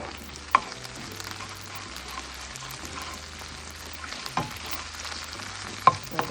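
A small amount of tomato paste frying in a pan for a Jamaican saltfish cook-up, giving a steady, close sizzle with occasional sharp pops and clinks, and no talking.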